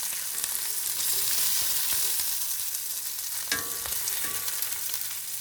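A steak's fat edge renders and fries in a hot pan, giving a loud, steady sizzle and crackle throughout with a few sharper pops and no talking.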